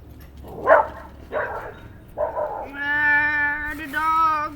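Dogs bark outdoors near a herb garden: a few separate yips and barks, then a drawn-out whining, howling bark close by.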